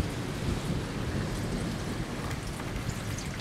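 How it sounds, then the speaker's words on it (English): A late-season thunderstorm: steady heavy rain hisses throughout while low rumbles of thunder roll underneath, close and continuous with no voices. "The final storm of the year."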